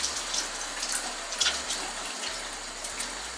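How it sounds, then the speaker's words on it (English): Hands being washed under a running tap with hand wash: a steady broadband stream of water at moderate level with small splashes and shifts in flow, no talking. "All right, so wash my hands."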